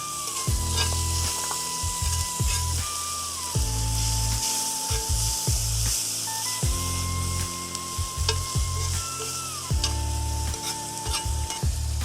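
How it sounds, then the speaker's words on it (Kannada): Egg kothu parotta with black pepper, Mangalore style, being stirred in a hot pan: steady sizzling frying with repeated scraping, rhythmic strokes of the utensil against the pan, close and clear with no talk. "ಕರಿಮೆಣಸು ಆದಮೇಲೆ ಸ್ವಲ್ಪ ಮಿಶ್ರಣ ಮಾಡಬೇಕು"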